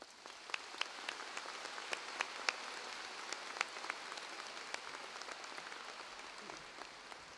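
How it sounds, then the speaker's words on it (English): An audience at a high school graduation applauds the fine arts programs, heard as a steady, fairly distant wash of many hands clapping that holds evenly throughout. "Please join me in applauding all of our fine arts programs."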